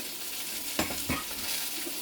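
Malabar spinach frying with spices in a pan, a soft continuous sizzle with two brief stirring scrapes, faint and close, no voices.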